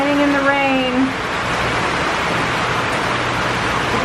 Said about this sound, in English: It's a very nice rain right now.